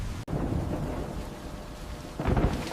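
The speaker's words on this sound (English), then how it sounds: "A big storm is shaking up the peaceful orchard." A thunderstorm breaks over an orchard, with a steady hiss of heavy rain. A sudden crack is followed by rumbling thunder that swells near the end.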